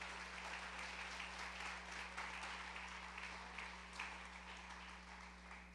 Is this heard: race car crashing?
no